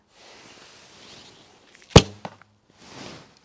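A quiet rustle, then a sharp, loud snap of a Paragon Bows Griffin bow (38 lb, 28-inch draw) releasing an arrow, a faint follow-up thud, and a soft swish afterward.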